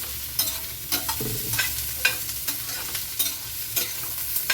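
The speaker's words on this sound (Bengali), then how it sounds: "আমি হাই ফ্লেমে নাড়াচ্ছি। ক্যাপসিকামটাকে হাই ফ্লেমে ভাজতে হবে।" Potato and capsicum being stirred in a pan over a high flame, with repeated scraping strokes over a continuous sizzle and frying hiss, close and fairly quiet, no voices.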